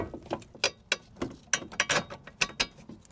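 A hand ratchet tightens strut nuts on a 2008-2013 Toyota Highlander during front strut replacement, with close, quick series of clicking strokes in uneven bursts.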